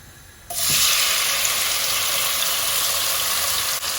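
Chopped tomatoes hit a hot cumin and curry leaf tempering for brown lentil dal, bursting into a sudden loud sizzle that settles into a steady close hiss, with no talking.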